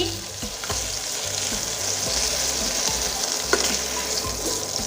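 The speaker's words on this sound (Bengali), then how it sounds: "দেখুন মাছটা আমি লাল করে ভেজে নিয়েছি" Pieces of katla fish frying in hot oil make a steady, dense sizzle close by, broken by faint scrapes and one sharp knock near the end, with no speech.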